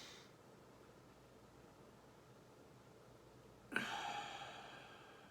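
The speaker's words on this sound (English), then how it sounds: "Well, first we take a deep breath." A single deep breath drawn in close to the microphone after a few seconds of near silence, a soft airy rush that swells quickly and then tapers off.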